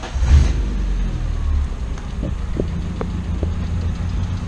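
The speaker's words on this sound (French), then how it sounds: "Démarrer la voiture, vous faire écouter un petit peu le bruit" A Peugeot 206 1.4i 75 hp petrol engine runs steadily just after starting, a close low hum with a few faint clicks and no talk.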